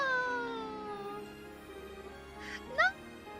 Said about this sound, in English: Sounds like a cat whenever she's asking for food.